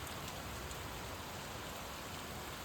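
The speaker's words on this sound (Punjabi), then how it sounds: "ਮੀਂਹ ਲਗਾਤਾਰ ਜਾਰੀ ਹੈ" Heavy, steady rain pours down on Sikhwala village, Lambi block, Punjab, in a dense, even hiss, with no voices or other sounds breaking through.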